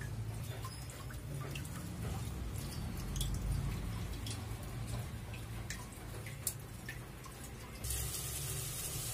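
Masoor lentils are rinsed with water inside a pressure cooker, giving a steady, close wet sloshing and swishing with small drips and splashes throughout, and no voices.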